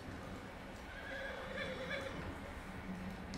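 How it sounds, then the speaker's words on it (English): Horse whinnying in the video game Red Dead Redemption 2: a faint, drawn-out neigh with wavering pitch over a low, muffled background, heard quietly and at some distance. "oh, you calm the horse."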